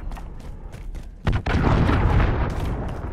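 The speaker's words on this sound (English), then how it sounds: "Allied cruise missile on the way." A cruise missile strike in Modern Warfare 3 lands as a sudden loud boom, followed by a sustained rumbling roar after scattered distant shots.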